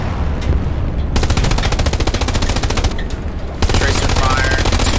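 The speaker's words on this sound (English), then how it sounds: "Tracer fire." Machine gun tracer fire in the World War II shooter Hell Let Loose: loud, rapid sustained bursts of automatic fire, stopping briefly and then resuming, close and dense throughout.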